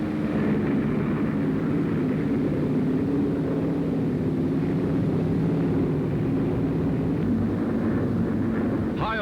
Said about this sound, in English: Taking off from runways hewn from the jungle, they roar aloft.